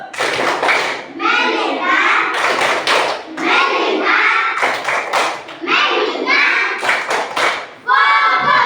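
A class of children claps in a rhythmic pattern while chanting along loudly, close by, with bursts of clapping in steady sequence.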